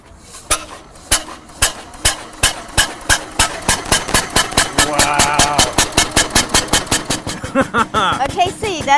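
Engine of an early first car with a flywheel, running with slow, loud, evenly spaced thumping firing beats that quicken slightly, close by, with talk over it.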